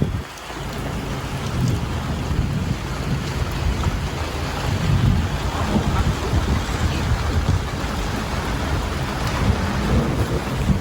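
A thunderstorm hits a sailboat at anchor at sea, with strong wind roaring steadily across the microphone. Rain and deep rumbling fill the whole stretch at a constant, loud level and no one speaks.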